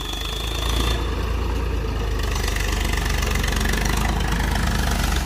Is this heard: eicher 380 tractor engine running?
yes